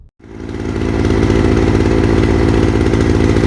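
A Citroën 2CV's small engine runs steadily and close by as the car is driven around a yard, a continuous buzzing, throbbing drone that comes up right after a short silence and holds at an even level.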